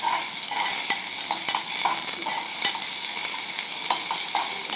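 Half an onion sautés steadily in hot oil for a Kolhapuri-style spicy egg curry, a continuous bright sizzle with occasional scrapes and taps of a stirring spoon, close and loud with no talk.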